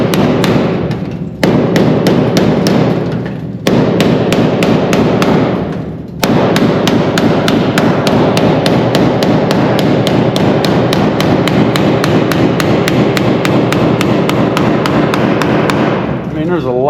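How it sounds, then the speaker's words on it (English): Rapid, loud hammer blows ring out on metal in fast continuous bursts, with two brief pauses early on before the pounding resumes steadily. "once more, hammering."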